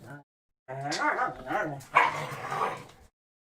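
Dogs bark and yip in a few short bursts close by, mixed with a person's voice in an indoor podcast setting.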